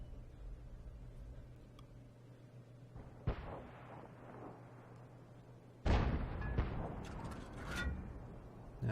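Artillery shells strike a tank in World of Tanks. There are two heavy impacts, a sharp one partway through and a louder blast later, each followed by rattling metallic debris over a low engine drone.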